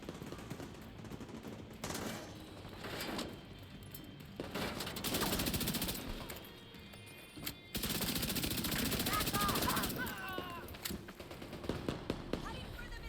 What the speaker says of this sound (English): Heading for the minigun. This'll make your ear break.